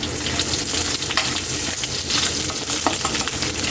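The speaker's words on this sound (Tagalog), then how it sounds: "Hintayin na lang natin yan, mag-golden brown ang ating bawang." Chopped garlic sautés in a pan for pork binagoongan, giving a loud, dense, continuous sizzle with faint scrapes of stirring close by throughout.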